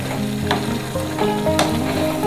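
Marinated chicken is stir-fried in a pan, giving a close, dense sizzle broken by a couple of sharp spatula scrapes as the pieces are turned, with no voices.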